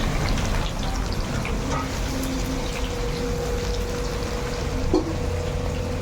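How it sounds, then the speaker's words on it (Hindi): Onions and whole garam masala frying in hot oil at a rustic roadside dhaba, a steady dense hiss and crackle that holds evenly throughout, with a faint tonal hum and one brief clink near the end. "प्याज डालने के बाद इसे अब गर्मा गर्म तेल में जो है मिक्स किया जा रहा है, भुना जा रहा है"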